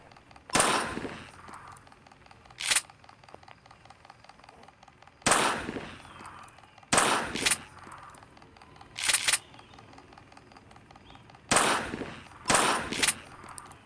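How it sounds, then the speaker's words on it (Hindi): Shotgun blasts in the horror video game Granny Chapter 2, about nine sharp reports fired singly and in quick pairs at irregular intervals, loud against a faint game background. "उसके लिए हमें पहले इधर निशाने लगाने हैं शॉटगन से"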